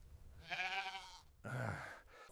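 A goat bleats twice, loud and close, each call a wavering nasal cry, with a short pause between them.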